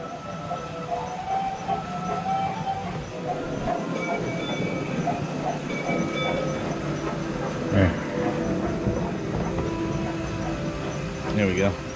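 Lego toy train on a home layout speeding up near a Disney train station, running continuously along its track, a steady rolling rumble with faint clicks and a few brief squeals, under background noise.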